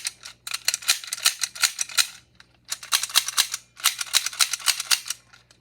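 A blowback toy gun fires in rapid bursts of sharp snapping clicks, three strings of shots separated by brief pauses, close and loud with no talking.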